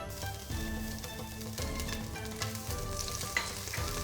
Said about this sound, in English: Add in sesame oil. I'm going to saute the garlic and the ginger.